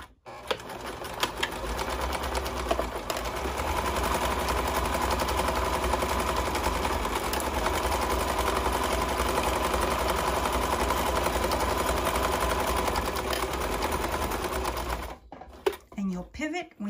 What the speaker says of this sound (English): I'll be sewing about 1/4 inch seam allowance and with a stitch length of